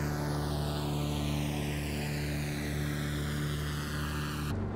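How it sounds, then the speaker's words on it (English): The Carenado Cessna 337 Skymaster in Microsoft Flight Simulator gives off a loud, steady twin push-prop buzz with a hornet-like drone and shifting propeller harmonics, constant until it cuts off abruptly near the end. "I love the buzz, the hornet noise from the twin prop"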